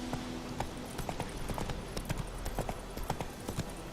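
Roach the horse gallops in the video game The Witcher 3, a brisk, regular clip-clop of hooves close up, running steadily from start to finish, no talking.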